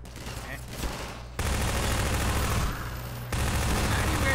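Bursts of gunfire from the Half-Life 2 video game rip out loud and close, with sustained rapid firing that jumps in intensity partway through and stays dense to the end.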